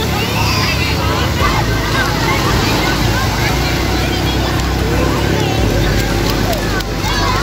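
Continuous sea surf at Karang Meong beach in Banten, where the tide is rising, makes a loud, steady roar mixed with wind buffeting the microphone and faint crowd babble in the background.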